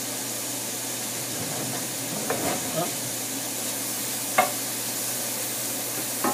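Onion and garlic sizzling in a pan for Spanish rice, a steady hiss with a few scraping stirs of a utensil, close and moderately loud.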